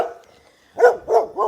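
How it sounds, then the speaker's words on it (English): Dogs bark three times in quick succession, close and fairly loud after a quiet moment, with short sharp woofs spaced evenly apart. "Very good guard dogs."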